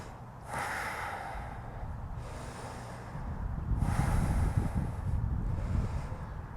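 Slow deep breaths during a yoga awkward pose, audible as soft airy inhales and exhales in long swells, close to the microphone.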